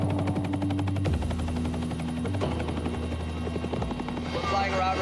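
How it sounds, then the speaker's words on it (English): A Pemex helicopter in flight, heard from inside the cabin, gives a loud continuous rotor thump and engine drone throughout, with a voice speaking over it. "We're flying around right now in the Pemex helicopter"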